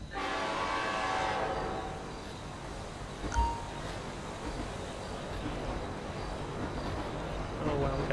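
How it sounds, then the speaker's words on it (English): In the video game GTA V, a train horn blasts loudly for about two seconds, then the train rumbles steadily along in the background while a voice talks over it. "Oh wow, we got a train."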